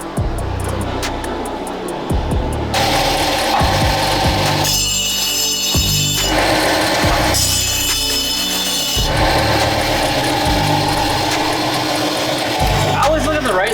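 Spinning disc power tool cutting and grinding metal in a go-kart fabrication shop building a Porsche 914 kart's rear suspension, loud bursts of whining and rasping that start and stop in several passes, with shop noise in between.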